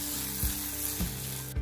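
Butter sizzling in a frying pan while a cheese omelette is being made, a steady close crackle with a few soft clunks of utensil stirring.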